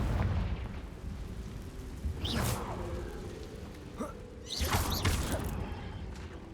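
A Confringo blasting spell explodes in Hogwarts Legacy: two whooshing fiery blasts land a couple of seconds apart over a rumbling background, moderately loud.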